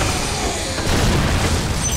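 A bomb goes off in the video game Totec: a loud, rumbling blast that swells partway through and holds as a broad, sustained roar with no talking over it.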